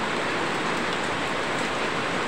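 Heavy rain falling in the Bacolod City area, a dense, steady hiss of downpour that stays constant and fairly loud, with no voices.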